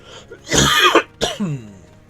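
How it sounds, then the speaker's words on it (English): Two short coughs, close and raspy, the first longer and harsher, the second lighter, with quiet between. "Excuse the coughs."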